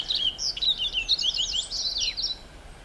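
A purple finch sings a rapid, warbling run of high chirps lasting a couple of seconds, clear and fairly close over a quiet background, at Plum Island.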